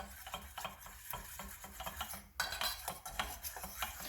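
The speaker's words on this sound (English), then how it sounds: "You have to just keep stirring it and stirring it." A spoon stirs milk into a thick, sludgy white sauce for lasagna in a pot, giving soft rhythmic scraping and clinking strokes with a faint sizzle beneath, close and quiet, with one sharper clatter midway.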